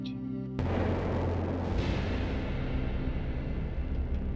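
A loud, close sniper rifle shot from the Children of the Sun sniping puzzle-shooter cracks out early after a low humming tone, then rolls into a long, booming echo that slowly fades.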